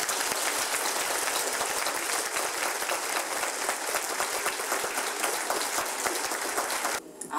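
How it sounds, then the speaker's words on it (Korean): Loud, dense audience applause fills the hall as a girl-group member is welcomed onstage at a Korean centennial tribute to a singer, holding steady throughout before cutting off abruptly near the end. "박수로 맞아주시기 바랍니다"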